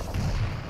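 Rocket explosion in the arena shooter Quake Champions during a duel match, a dense low booming rumble sustained under continuous game noise for under a second.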